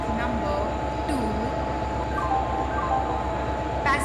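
Train ambience from Indian Train Simulator on the 12275 Hamsafar Superfast Express: a steady low rumble of a railway setting with faint tonal hums and brief chimes, continuous throughout, with a voice present but no clear words.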